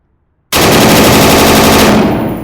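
A gun with a very high fire rate in the VR shooter Tactical Assault VR fires one loud, continuous burst lasting about two seconds after a moment of silence, then starts to fade.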